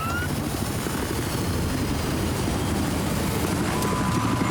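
A helicopter in the shooter Battlefield 4 gives a steady, dense rotor and engine drone that holds loud and unbroken throughout, with no voices.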